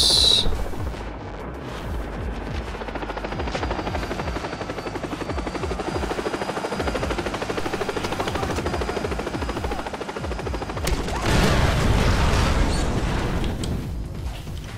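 An enemy helicopter in Far Cry 3 roars loudly with a rhythmic rotor chop, bursts of gunfire and impacts mixed in, swelling to a heavier blast of noise near the end.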